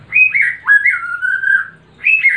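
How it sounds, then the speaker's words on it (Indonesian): An oriental magpie-robin sings close by in clear, sweet whistled phrases. The notes slide up and down in a flowing run, then pause, then return with another bright phrase. "itu backsound dari burung murai saya"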